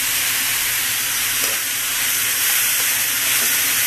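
Mung bean sprouts sizzling in a frying pan, a loud, steady hiss of frying with steam that holds without a break, no talk over it.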